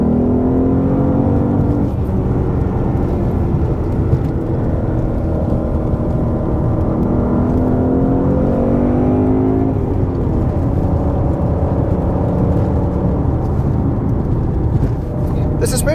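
A 2023 Ford Mustang GT California Special with a manual gearbox pulls through tight corners, its engine note climbing and then dropping as the driver shifts from third back to second, heard steadily from inside the cabin under someone talking.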